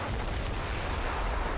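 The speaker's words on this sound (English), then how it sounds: "the random explosions are just going to be men stepping on mines" Dense, muffled battle din in a World War II–style war video game, with distant explosions from soldiers stepping on mines blending into a continuous low rumble, faint and without speech.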